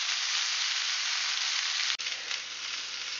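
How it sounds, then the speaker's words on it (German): Lightly precooked potato cubes fry with onions in a pan outdoors, a dense, loud, steady sizzle that drops out abruptly for a moment before continuing a bit softer. "In die Pfanne mit den Zwiebeln gesellen sich nun die leicht gegarten Kartoffelwürfel und die tun wir etwas braun anbraten"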